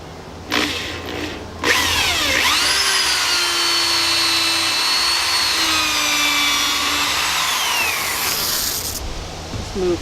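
Power drill boring into wood while building a bread shelf, one long continuous whine that rises in pitch as it spins up and holds steady for several seconds, loud and close, with short buzzes before it starts.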